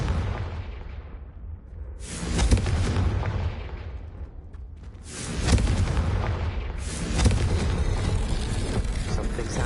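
Confringo spell explosions in the video game Hogwarts Legacy, two loud booming blasts a few seconds apart, each followed by a long rumbling decay.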